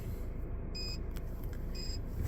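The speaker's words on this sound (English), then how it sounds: "you get a double beep" A Volvo XC90 immobiliser gives a double beep after PIN entry, two short high electronic tones about a second apart over a low rumbling background.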